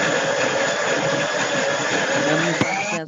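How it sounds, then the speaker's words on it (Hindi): A motorcycle engine running steadily in the background of a home during an online class, a constant loud hum with a brief click near the end. "मैं तो कोई मोटरसाइकिल चला रहा है, उसी की आवाज आ रही है।"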